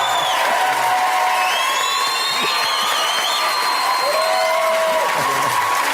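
A studio audience at a talk show applauds and cheers in a dense, continuous wash of clapping, with scattered whoops rising above it.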